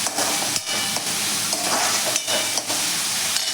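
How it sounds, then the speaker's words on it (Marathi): Chopped tomato and capsicum being stirred in a hot pan with pasta vegetables, continuous sizzling and frying hiss broken by regular scraping strokes of a spoon, close and fairly loud. "व्यवस्थित आपण भाज्या ह्या सगळ्या मिक्स करून घ्यायच्या आहेत"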